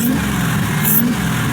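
A built engine in a Ford Lightning truck idles after warming up outside, a steady deep rumble with an even, throaty low end throughout the short stretch and no talking.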